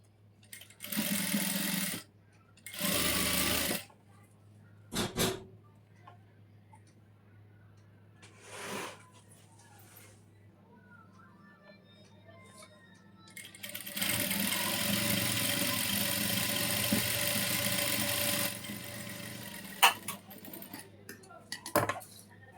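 A sewing machine stitches lace into a rounded shape for a child's ghagra skirt, running in several loud whirring bursts, first short, then a long steady run of several seconds, with quiet handling sounds between runs.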